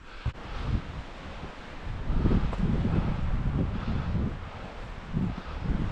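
Wind gusting across an exposed mountain summit at Mount Success in New Hampshire, a broad rushing roar buffeting the microphone in uneven surges, moderately loud and steady with no voices.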